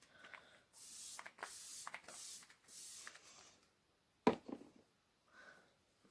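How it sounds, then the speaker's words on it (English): Several short hissing sprays of a face mist bottle onto a face in quick succession, close by, followed by a brief thump and quiet rustling. "I'm going to spray my face because obviously we want this highlighter to be popping."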